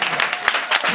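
A church congregation breaks into loud, continuous applause, a dense wash of many hands clapping close and steady for the full second.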